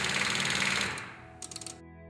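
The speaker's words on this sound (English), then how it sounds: "When the solenoid clicks either once or in a series like this" A car starter solenoid clicks in a rapid series because of a low battery or poor cable connection, a quick rattling burst of clicks after a buzzing whir, faint and brief, with no talking.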